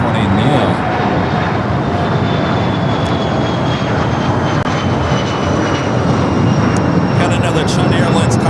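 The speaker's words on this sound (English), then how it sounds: "Next takeoff is the Volaris and the Super Mario Galaxy sticker." A Volaris Airbus A320neo jet takes off at LAX with a loud, sustained broadband engine roar that stays steady and close throughout, with a faint whining tone above it.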